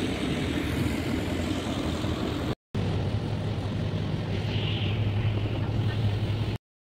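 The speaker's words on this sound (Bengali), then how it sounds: "তা চলো এখন লঞ্চ ছাড়ছে, আর একটা লঞ্চ চলেও এসেছে" Passenger launch ferry pulling away from the Guptipara ferry ghat on the Ganges, its steady engine drone and low hum continuous and fairly close, with water and wind noise, briefly cut off partway through.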